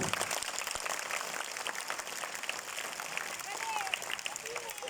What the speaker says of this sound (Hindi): अगर सुन रहे हो तो एक बार ज़ोरदार तालियां बजाओ।